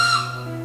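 A single train whistle gives one short, close, tonal blast that fades quickly, with nothing else around it.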